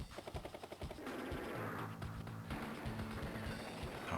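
A B-copter attack in the Game Boy Advance strategy game Advance Wars plays as a rapid burst of rattling gunfire followed by a dense crackling blast with game tones, no voices.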